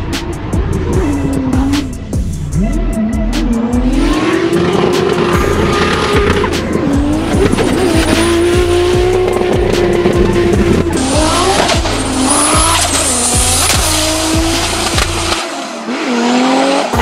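A Nissan S15 drift car sliding under hard throttle, loud continuous tire squeal and skidding over a roaring, shifting engine pitch, close and sustained for the whole stretch with no talking.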